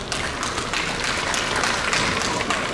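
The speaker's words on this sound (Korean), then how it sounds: "사람이 좀 적어서 박수 소리가 참 작은 것 같네요." Thin, scattered applause from a handful of people at an architecture seminar in Busan, steady and modest in volume for a few seconds with no voices.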